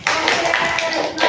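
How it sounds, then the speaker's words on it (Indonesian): A classroom group claps hands together in a short burst of rhythmic clapping, close and fairly loud, with voices mixed in. "Kita tepuk dulu nih."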